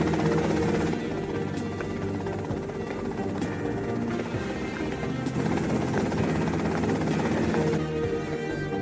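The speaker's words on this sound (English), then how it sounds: "that's them in the chopper" A helicopter in the video game GTA Vice City drones steadily with a loud, continuous rotor and engine roar that holds throughout without breaks.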